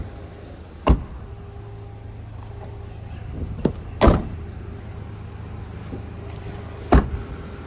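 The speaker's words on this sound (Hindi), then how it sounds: "अब जैसा कि 2 मिनट हो चुके हैं तो मैं गाड़ी के सारे डोर बंद कर देता हूँ।" Doors of an MG Astor car are slammed shut one after another on a hot summer day in Delhi, giving three or four sharp thuds spaced a few seconds apart over a steady low hum.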